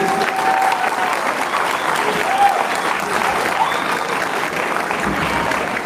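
An audience at an award presentation breaks into sustained applause, a continuous, even roar of many hands clapping with faint crowd murmur beneath, steady from start to finish.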